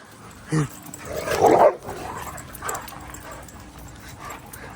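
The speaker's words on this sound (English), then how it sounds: "It's a normal dog." A dog barks and yips a few times in short bursts, one louder bark near the start and a strained, whimpering bark in the middle, with people talking around it indoors.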